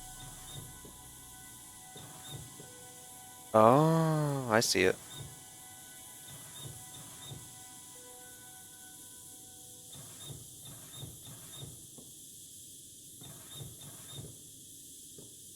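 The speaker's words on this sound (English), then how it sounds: "I'll have to turn off the, steam, I suppose." Steam in the horror game Rise of Insanity, heard as a steady faint hiss with a loud burst of shrill whistling in the middle, while someone talks briefly.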